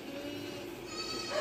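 A goat gives a short, faint bleat at the end of a brief stretch of low background noise.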